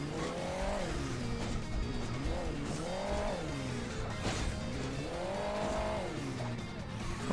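A cartoon car's engine in the mobile game Hill Climb Racing 2 revs up and down in repeated rising and falling surges, with tire noise underneath, loud and continuous throughout.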